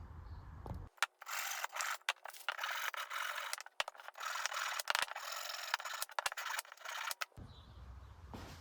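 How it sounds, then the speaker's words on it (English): Wooden parts for an entryway bench being sanded: steady, close scratchy rubbing that runs in bursts for about six seconds, broken by brief pauses, with quiet room tone before and after. "We'll get this sanded up and get it assembled."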